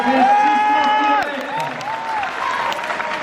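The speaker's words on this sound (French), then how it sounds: "L'équipe de Belgique, vous pouvez les applaudir." An audience applauds the Belgian team with dense clapping and crowd noise, while a strong voice-like tone rides over the start and softer tones follow.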